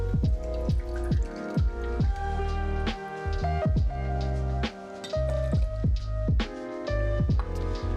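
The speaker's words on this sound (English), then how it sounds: "we want to squeeze out 1/2 ounce of fresh lime juice" Fresh lime squeezed by hand into a cocktail glass for an apple cocktail, giving a run of soft wet drips and squishes, close and steady, with no talk.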